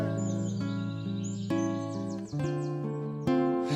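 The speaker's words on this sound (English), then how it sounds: "Those birds are too fucking loud." Loud birds chirp and twitter in quick high sweeps over music that plays throughout.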